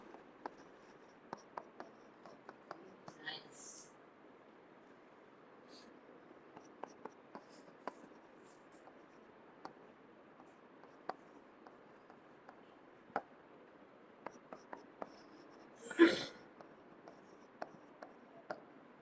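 Pen writing sentences by hand on paper for an English grammar lesson, a soft steady scratching with small taps from word to word, close and quiet, and no one speaking.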